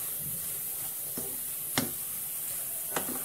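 Cauliflower frying in a pan on a low flame gives a soft, even sizzle with a few sharp pops and crackles, close up and alone.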